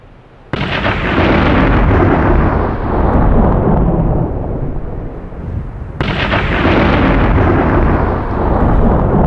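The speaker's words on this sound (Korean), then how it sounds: "두 개의 번개가 동시에 떨어집니다." Two lightning strikes land at the same moment: a loud thunder crash bursts in suddenly and rumbles on, fading slowly, then a second sharp crack and roar follows, close and powerful, with no voices.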